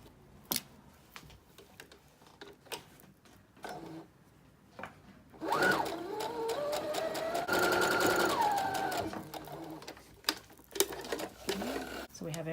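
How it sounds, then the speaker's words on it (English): Sewing machine stitching a felt pumpkin treat bag, a steady close whirring run of several seconds preceded by scattered clicks and handling taps, with a voice speaking lightly over parts. "So we have everything sewn on the front of our pumpkin."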